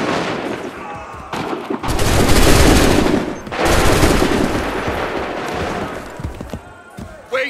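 Massed musket volleys in Assassin's Creed III roar up close, a loud sustained crackling barrage rising and fading in two long waves, with scattered shots and voices around it.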